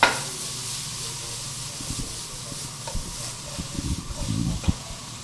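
Food sizzles steadily in a hot pan while cooking for several minutes, a constant bright hiss with occasional clatters and stirring bumps, low voices murmuring faintly underneath.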